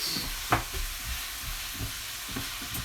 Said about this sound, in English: Okay, so I'm just giving that a stir around.